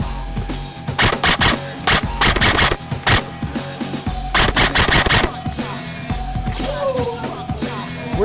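Airsoft guns firing in repeated rapid bursts during an outdoor nuke-evacuation skirmish game, sharp clattering volleys close by with short pauses between, over a steady background hum.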